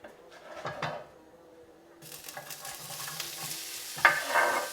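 Onions and chilies fry in a pan for harissa yogurt scrambled eggs, starting as a soft hiss that swells into a steady, louder sizzle, with scraping stirs and a couple of sharper clinks near the end.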